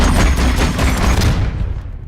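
An amp suit's massive cannon from the 2009 film Avatar fires in a loud, dense burst of heavy booming shots that fill the space before fading away.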